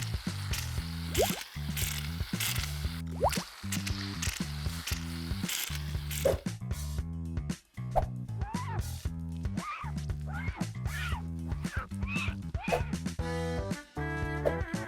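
Wet, squishy soap-scrubbing and dripping sound effects repeat in quick bursts during a hand-washing step in an Inside Out 2 makeover game, layered over a looping background tune.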